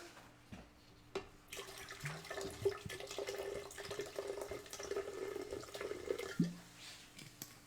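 Sparkling water is poured into a cup for a holiday drink, a soft trickle with small splashes and fizzy crackle heard faintly close by for several seconds.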